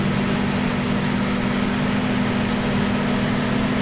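An articulated tractor engine in Farming Simulator 2015 drones steadily at a low idle-like pitch, with a constant tone and broad mechanical noise running unbroken throughout and no talking.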